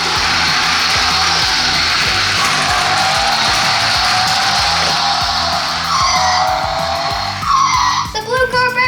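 A Magic Tracks remote control toy car whirs loudly and steadily as it takes a corner on its track, its high motor whine shifting pitch near the end amid a few clattering knocks.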